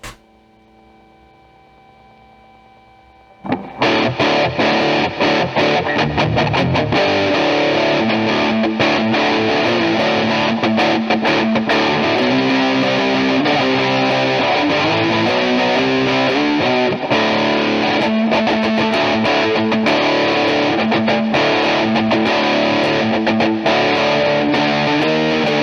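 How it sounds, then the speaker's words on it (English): Electric guitar played through a Behringer Ultra Metal UM300 distortion pedal set to moderate gain; after a few seconds of quiet hum, loud saturated distorted chords and riffs ring out continuously and densely. "let's turn the distortion up to noon."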